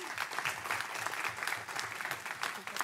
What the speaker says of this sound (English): Everyone give them one more big round of applause.